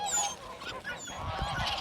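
A few geese honking as they walk toward a road, short nasal honks bunched together, close by and clear with no talking.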